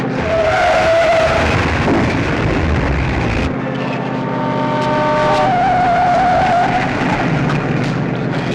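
A runaway 1950s car careening out of control, its engine roaring steadily while tires squeal in long wailing screeches, loud and continuous without talk, a harsh skidding cry rising near the start and again toward the end.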